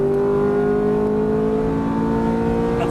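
A Ferrari F430 pulls hard under heavy throttle on a race circuit, its engine a loud, steady, close roar with harmonics rising gradually as revs climb, holding continuously for the full stretch.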